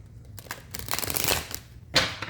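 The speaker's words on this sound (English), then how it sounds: "We're going to shuffle these cards 5 times." Tarot cards shuffled by hand in a rapid riffling patter, near and fairly quiet, with a sharper flutter near the end.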